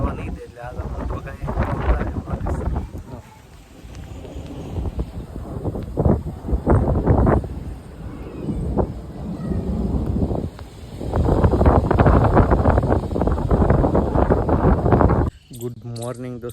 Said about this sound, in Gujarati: પણ પવન છે ને નામ લેતો નથી બંધ થવાનું